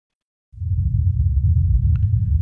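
After a short silence, a steady low rumble of Martian wind buffeting the camera microphone begins and continues without pause.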